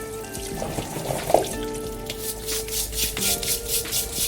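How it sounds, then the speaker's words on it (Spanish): Oysters scrubbed and washed under cold running water, a steady close rush of water with rubbing and scraping strokes and a few light knocks of shell. "Con los ostiones vamos a comenzar lavándolos muy bien."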